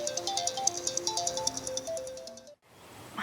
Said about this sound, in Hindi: कब से शोर मचा रहा है तेरा फोन?